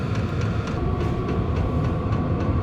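A compact VEVOR 12V diesel heater runs with a steady, even broadband roar and a low hum, close and constant throughout, with no voices.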